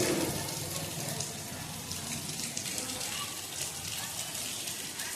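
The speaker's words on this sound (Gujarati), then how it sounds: "શરૂ છે વરસાદ" Steady rain pours down outdoors, a dense, even wash of drops with a faint voice underneath.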